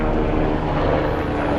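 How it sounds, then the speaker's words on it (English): A camera drone climbs into the air with a steady, close, whirring propeller buzz that holds at an even level throughout. "The drone. It just goes up and then it's on here."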